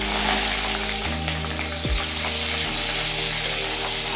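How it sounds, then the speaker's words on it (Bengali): Chopped garlic frying in a pan for pasta chowmein, a steady soft sizzle with a faint low hum running beneath it, quiet and continuous with no voices. "রসুন কুচি দিয়ে দিলাম, একটু লাল হতে দিলাম।"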